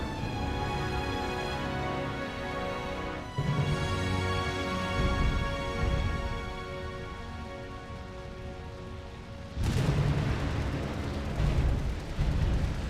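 Dive bomber attack in the Task Force Admiral naval combat game, Coral Sea battle: heavy rumbling explosions and bomb blasts swell loudly over a sustained droning background of engines, with a sharp new blast burst near the end.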